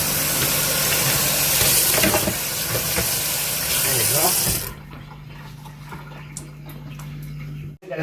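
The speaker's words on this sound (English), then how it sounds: "So now just gonna rinse some cold water." Cold water running hard from a kitchen tap for rinsing, a steady loud gush that stops abruptly halfway, leaving quiet room noise.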